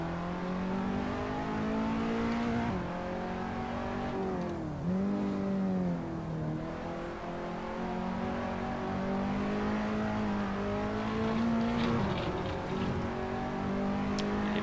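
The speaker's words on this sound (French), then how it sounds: "Les pneus qui commencent à glisser" A KTM X-Bow in a racing video game holds a steady engine drone that dips and swoops as the tires begin to slide, with a faint tire scrub in a continuous close-up run and no talking.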